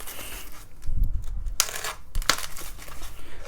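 A rattly mystery package holding metal mounting brackets for drives, parts for a Commodore SX64 build, is handled and shaken, giving a few loose clattering rattles and crinkly bursts up close.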